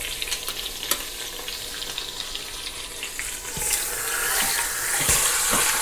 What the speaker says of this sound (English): we've got our Instant Pot up to heat so we can start sauteing it